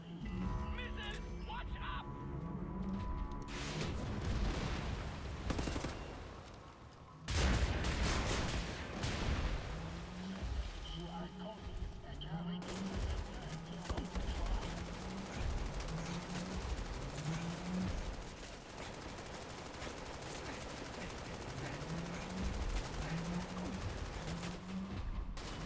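Sustained gunfire and bursts of automatic fire during a boss fight in a speedrunning video game, dense and continuous over a game soundtrack, with a voice talking over parts of it.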